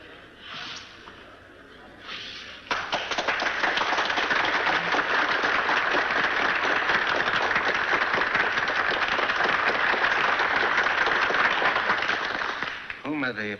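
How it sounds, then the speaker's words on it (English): Audience applause fills a hall as a speaker, Dr. Lister from England, is welcomed, rising after soft murmurs into steady, sustained clapping for about ten seconds before fading. "Whom are they applauding?"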